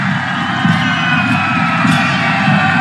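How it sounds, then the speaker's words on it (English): A Nepalese crowd at a T20 cricket match between Pakistan and Nepal roars after a boundary, a loud, sustained wall of cheering and whooping with scattered shouts rising throughout. "And now the volume's turned up from the Nepalese crowd."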